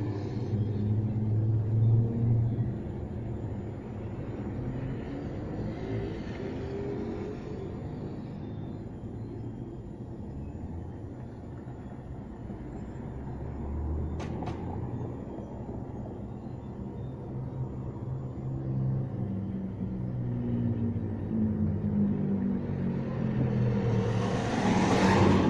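Engine of a 1993 Nissan Tsuru with a faulty TPS signal, revved slowly upward from a steady rumble, the pitch climbing gradually and growing louder toward the end, with no talk over it.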